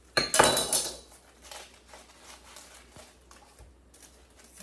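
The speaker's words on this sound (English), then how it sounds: "I'm gonna cut up this onion that is past its prime." A knife cuts a Spanish onion on a kitchen board, starting with a loud clattering knock and then giving softer intermittent taps and scrapes close by.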